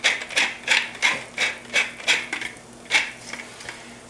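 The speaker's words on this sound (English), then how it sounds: "So I'm going to add a few grinds of fresh black pepper." A pepper mill grinds fresh black pepper over a sauce with softened onions, giving a series of about eight short, crunchy, rasping grinds in an even rhythm, close and clear.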